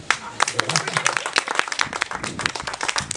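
An outdoor crowd at a nest box inauguration in a park applauds with a mix of sharp individual claps and steady clapping, while voices talk over the applause throughout.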